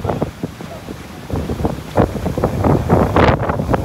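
Gusty hurricane wind from Hurricane Milton batters the microphone near the Turtle Club as storm surge pushes onto Gulf Shore Drive, a loud, rumbling, continuous buffeting that swells toward the end.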